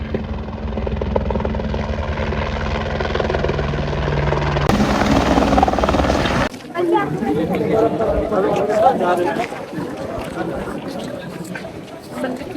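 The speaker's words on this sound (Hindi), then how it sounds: "सो गाइस वो सामने एक हेलीकॉप्टर आ रहा है और इधर हेलीपैड है जहाँ पर वो लैंड करेगा।" A helicopter approaches the helipad at Kedarnath, its steady rotor and engine drone loud and continuous, with people chattering nearby throughout.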